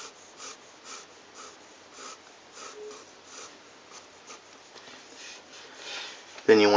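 Pencil strokes scratch across paper while sketching guide lines for an anime face, a regular series of soft, brief scraping bursts repeating about twice a second, faint and close, ending in a louder sound at the very end.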